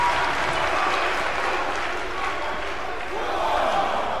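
Wrestling arena crowd in WWE 2K19 cheering and applauding as a steady roar, with commentary spoken over it.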